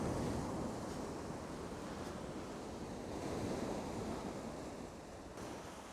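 Calm sea waves wash steadily along the shore on a cold night near freezing, a continuous broadband surf rumble with gentle swells and faint wind, no voices.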